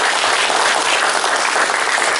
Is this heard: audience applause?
yes